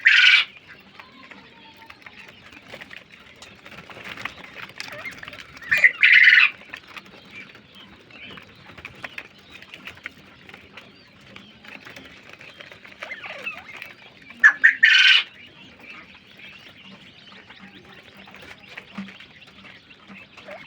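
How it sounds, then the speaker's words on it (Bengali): Northern Bobwhite quail give three short, bright calls spaced several seconds apart over faint rustling and low background noise. "খুবই সুন্দর মানের নর্দন বব হোয়াইট কোয়েল।"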